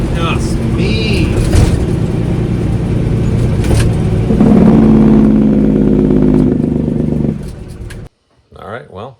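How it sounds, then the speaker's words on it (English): A Cummins L10 diesel engine idles and revs in a Ford L9000 truck, running loud and close with a deep clattering rumble that swells midway, then cuts off abruptly before a brief spoken voice. "I'm telling you, it's a good little motor. And they sound mean."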